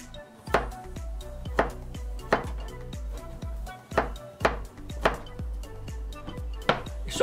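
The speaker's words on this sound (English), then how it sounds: "what we want to do now is just chop them finely like that" A knife chops peeled garlic cloves finely on a board in quick, evenly spaced strokes, about ten sharp thuds close up with little else around them.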